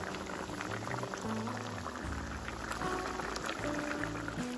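Thick paneer and tomato gravy bubbling in a pan, a soft steady simmer of small pops and blips, close and fairly quiet, with no voices.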